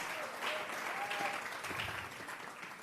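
A church congregation claps together as an offering of praise, a dense, steady patter of applause from a crowd in a hall.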